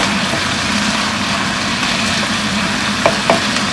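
Vegetables and garlic sauté in a hot pan, a steady close sizzle and hiss throughout with a couple of faint clinks near the end.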